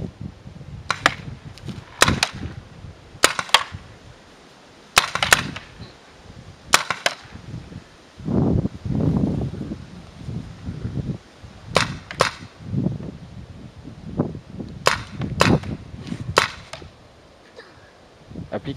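Paintball guns fire in sharp, crisp pops during a match, some in quick pairs and bursts, others spaced apart, at moderate distance with background rustle and low murmurs between shots.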